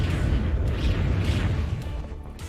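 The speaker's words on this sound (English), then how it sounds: "Edict Explosions picked up for the Leshrac." Leshrac's Edict ability goes off in a Dota 2 professional match, T1 versus TNC Predator, as a rumbling run of booming explosion effects with a few brief bursts layered on top, fairly dense and steady over a low in-game din.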